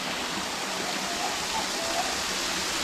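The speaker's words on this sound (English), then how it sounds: "little water fountain going." A small water fountain runs in a rainforest reserve, a steady soft hiss of falling water with no breaks, moderately close and alone.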